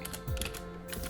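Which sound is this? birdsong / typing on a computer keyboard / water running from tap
typing on a computer keyboard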